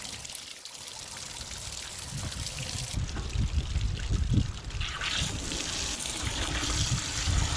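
Water drains from an RV travel trailer's hot water heater, rushing and gushing steadily, a loud continuous splashing flow that swells slightly and carries on throughout.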